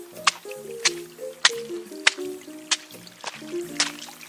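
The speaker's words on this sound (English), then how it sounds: "This is what I call unavoidable wet shoe situation." Soaked hiking shoes squelch with each step along a creek trail, a faint, close series of about seven wet squishing pops in an even walking rhythm, with no talking.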